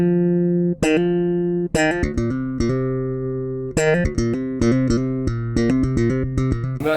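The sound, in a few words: five-string bass guitar with EMG 40 DC active pickups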